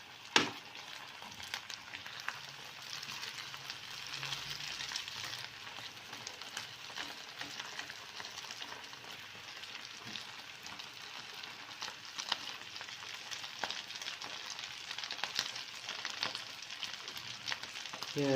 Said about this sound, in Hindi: बहुत ही हमने इसको अच्छे तरीके से भूनना है कि आलू का जो एक कच्चापन है